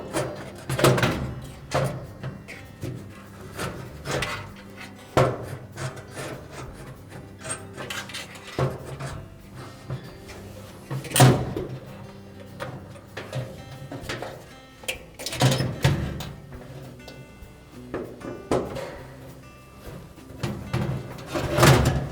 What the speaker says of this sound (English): Now we'll start by putting one of the upper screws in place first.